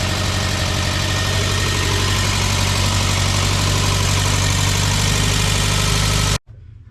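A 1968 Fiat 850 engine idles steadily at about 1200 RPM after a vacuum leak fix, a loud, close, even drone with a fast low pulse that cuts off abruptly near the end.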